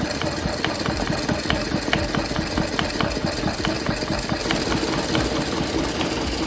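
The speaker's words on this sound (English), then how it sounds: "I've got it running at 300, just a lower speed to help with some of those stitches on the hats." A multi-needle embroidery machine stitches fine lettering onto a hat at a reduced speed of 300 stitches per minute, giving off a steady, loud, rapid mechanical chatter of needle strikes that runs unbroken throughout with no talking.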